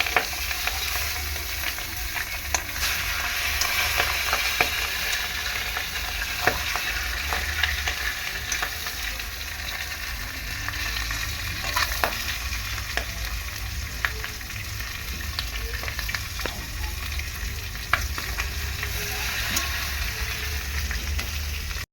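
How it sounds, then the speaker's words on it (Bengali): Large fish heads sizzle steadily in hot oil in a pan, with occasional clicks and scrapes as they are turned over. The frying sounds close and even throughout, with no voices. "উল্টে পাল্টে মাছের মাথাগুলো ভালো করে ভেজে নেব।"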